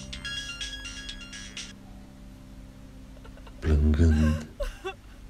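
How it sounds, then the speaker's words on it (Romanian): A telephone ringing with a bright electronic ringtone for over a second and a half, followed by a short burst of voices and laughter. "L-a lăsat să sune fără să închidă. Telefonul a mai sunat odată"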